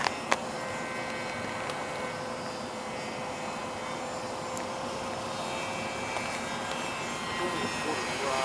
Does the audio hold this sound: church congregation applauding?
no